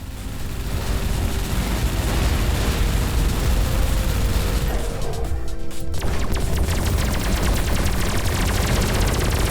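Missiles launching in the space-combat game Everspace 2, a dense, loud barrage of booming, crackling blasts that fills the whole stretch, with a sharp burst of rapid impacts near the middle and no talk over it.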